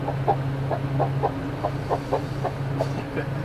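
Chickens cluck in a coop in a steady series of short, regular calls over a constant low hum, fairly close and moderately loud.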